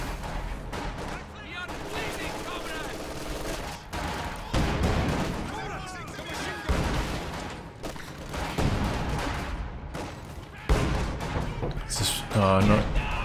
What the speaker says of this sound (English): SU-76 barrage